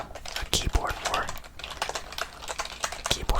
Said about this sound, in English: keyboard sounds and stuff for ASMR.